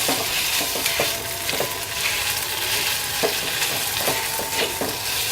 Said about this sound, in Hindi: इसको हम भूनेंगे थोड़ा सा।